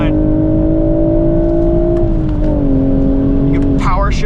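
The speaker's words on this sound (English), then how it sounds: "with the top up, it's quiet in here. You can hear engine a little bit" BMW Z4 M40i with six-speed manual, roof up, on a race track: a steady engine drone holding pitch, then dipping and climbing again, with people talking over it.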